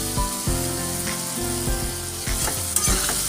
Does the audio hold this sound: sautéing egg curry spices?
yes